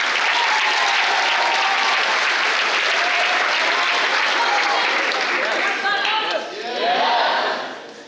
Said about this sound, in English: Give them both a huge round of applause.